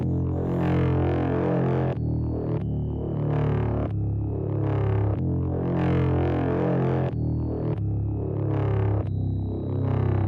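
A thick, gritty synth bass run through distortion plays a repeating riff of sustained notes with short breaks, heavily distorted and loud, with higher synth tones entering occasionally.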